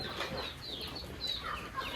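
Chickens about four months old cluck and call close by, several overlapping bird voices chattering continuously with no talking.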